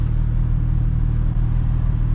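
Straight-piped Porsche 992 GT3 RS engine holds a deep, steady rumbling idle close by, loud and continuous without speech.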